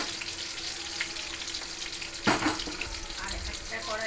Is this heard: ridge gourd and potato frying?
yes